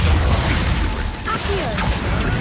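A Confringo fire spell blast in the video game Hogwarts Legacy: a loud, dense burst of crackling, shattering noise that stays strong for the whole moment, with mechanical clanking and a brief whooshing sweep partway through.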